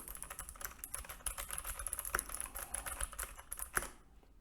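Quick, irregular clicks of fingers typing on a computer keyboard, fairly quiet and close, with brief pauses between bursts of keystrokes.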